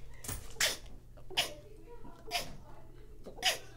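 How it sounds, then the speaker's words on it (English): A series of short, sharp sneezes, four or five spaced bursts, over a low steady hum. "Is that how you sneeze, sister?"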